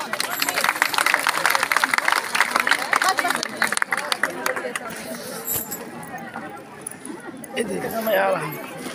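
Audience clapping at a school annual function, a dense burst of hand claps with crowd chatter, loud at first and then thinning out into murmuring voices.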